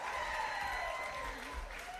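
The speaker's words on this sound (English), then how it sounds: "Can we get a huge round of applause for the Shift Foundation," Audience applause at a mental wellness benefit brunch, a steady dense clapping that fills the whole moment at moderate level, with faint voices mixed in.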